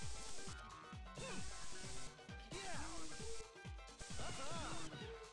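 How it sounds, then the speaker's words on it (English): Spray cans hiss in repeated bursts while tagging graffiti in the video game Jet Set Radio, the rhythmic spraying layered over busy game music and effects. "how many bloody spray cans do you need for the one graffiti art?"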